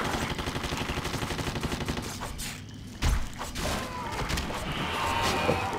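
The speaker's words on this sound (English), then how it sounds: "why do I have a big ass machine gun?" Heavy gunfire from a machine gun in the video game BloodRayne: ReVamped, with dense rapid bursts, a lull, then a thud and continued loud shooting alongside game effects.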